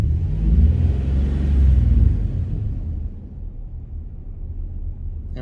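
A Chevrolet Astro van engine revs up with a low, heavy rumble, holds for a couple of seconds, then settles back to a steady idle, with slight vibration.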